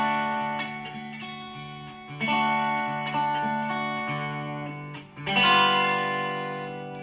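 A Fender Player Jaguar electric guitar on its single-coil neck pickup, with a light crunchy overdrive, plays ringing chords and single notes, letting them sustain and decay between strums.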